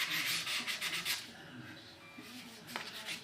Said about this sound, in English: Yeah, see this binding, actually I'm using 400 and the binding is actually sanding down pretty easy.